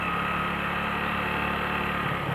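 A motorcycle engine pulls steadily uphill in first gear with the clutch eased out gently, giving a loud, continuous low mechanical drone close by with no speech over it.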